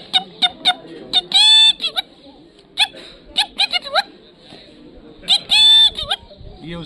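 A person imitates the red-wattled lapwing's call at a bird festival: repeated shrill, sharp whistled notes in quick bursts and longer strident trills, loud and close over a murmuring crowd.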